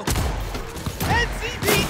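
Shotgun blasts in Cyberpunk 2077 during a firefight with police, heavy thumping shots over a dense layer of game noise and chirpy effects, with speech mixed in.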